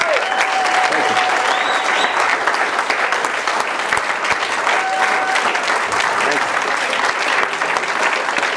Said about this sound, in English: Solid round of applause for our two guests this evening.